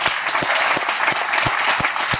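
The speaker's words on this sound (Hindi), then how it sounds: "अमित सर के लिए एक बार जोरदार तालियां हो जाए।" An audience aboard a cruise ship applauds steadily at a motivational company event, dense clapping with a few sharp rhythmic claps standing out, close and continuous throughout.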